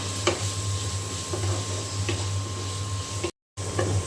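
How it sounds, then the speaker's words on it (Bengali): Carrots, potatoes, onions and chilli fry in oil with a steady, close sizzle broken by occasional light ticks and stirring clinks of a utensil. "এখানে গাজর, আলু, পেঁয়াজ, মরিচ খুব সুন্দর করে ভেজে নেওয়া হয়ে গিয়েছে"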